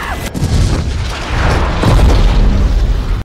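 A loud, rumbling explosion from The Incredibles animated film rolls on as a sustained roar with crackling debris for several seconds, with no voices.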